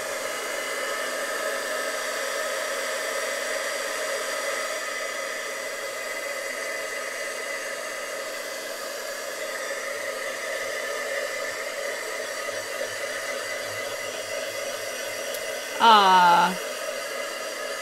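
A scrapbooking heat tool blows with a steady, loud, hissing whir that runs almost the whole time. Near the end a brief chirpy electronic sound cuts in over it.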